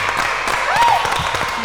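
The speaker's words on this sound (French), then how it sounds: "Bravo, applaudissez." Brief burst of studio audience applause on a quiz-style game show, busy clapping with a short rising and falling whistle-like tone over it.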